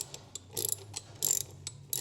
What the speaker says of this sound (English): If I turn the wrench the right way.